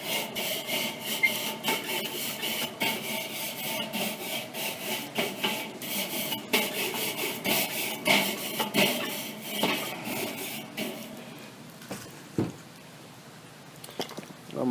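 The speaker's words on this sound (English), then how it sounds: "Give it a good brush down." Wire brush scraping back and forth over hot grill grates heated to about 525 degrees, a steady close rasping scrub with rhythmic strokes that trails off near the end.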